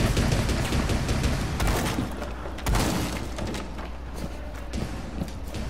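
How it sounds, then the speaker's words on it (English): A C4 charge blows out a floor in Rainbow Six Siege, a loud burst of debris with crashing, shattering rubble, followed by a second heavy blast and scattered crumbling that keeps rumbling underneath. "I'm about to put a C4 on the floor. Just blow the floor out."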